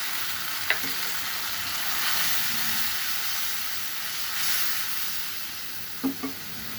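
Water and ground turmeric, coriander, chili and cumin sizzle in a pan for an eggplant tomato chutney, a steady broad hiss with a few brief clinks of stirring.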